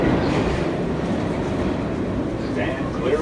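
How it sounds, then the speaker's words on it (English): New York subway F train at the 34th Street station, a steady loud rumble of the car in motion, dense low roar with faint metallic squeal near the end. "So this is my train. This is the F train."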